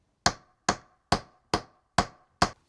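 Six crisp, evenly spaced hammer taps on a nail set driving a nail into a small wooden box, each strike sharp and close with a quick ringing decay and quiet gaps between.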